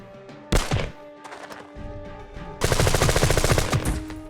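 Gunfire from a bullpup rifle in the Jagged Alliance 2 video game: a sharp opening shot, a short pause, then a loud, rapid burst of close shots with musical tones droning underneath.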